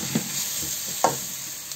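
A masala of turmeric, cumin, chili powder and a little ginger paste being stir-fried in a pan, steady soft sizzling with a couple of scraping stirs, close by with no talking.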